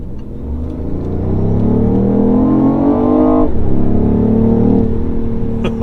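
BMW i8 with a modified exhaust accelerating hard at full throttle out of an intersection in comfort mode, a loud, close engine note whose pitch climbs steadily, drops briefly at a shift, then keeps pulling.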